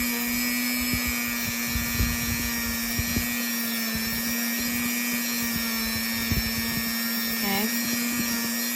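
A buffing wheel spins steadily against jewelry coated with buffing compound, giving a constant motor whine with a steady tonal hum and light scraping contact under it. The sound holds even and continuous at moderate level.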